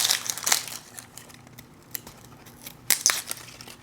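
Dry papery skin peeled off a halved onion by hand, crackling and crinkling close up in uneven bursts, with a louder cluster of tearing crackles near the end.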